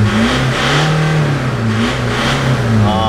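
A car engine fitted with a newly installed aftermarket exhaust revs loudly up and down, a deep, throaty note swelling and falling in several pulls close by.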